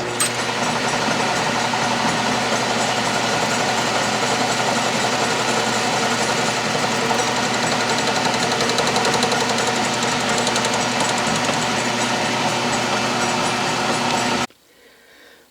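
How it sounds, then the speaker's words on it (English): A metal lathe facing a workpiece held in a 3-jaw chuck runs with a steady, loud whirring hum and faint cutting chatter, close and unbroken until the machine cuts off abruptly near the end. "with the work held in a 3-jaw chuck, I will face it down to approximately a 3/4 inch overall thickness"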